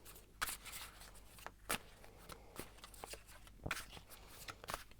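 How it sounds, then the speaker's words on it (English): Tarot cards are shuffled quietly at close range, a run of soft papery riffles and sharper slaps in an uneven rhythm, with no talking. "I'm going to shuffle more."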